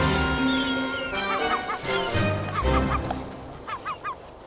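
Scavenging gulls call over Arctic sea ice in a series of loud, nasal honking cries, several overlapping and then a quick run of three or four calls, over steady wind-like background noise.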